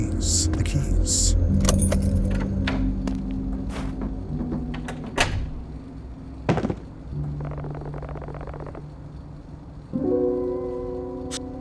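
Keys jangle in bursts in the horror game Fears to Fathom: Woodbury Getaway, mixed with clicks, a door slide and a low engine hum, with a voice talking at times.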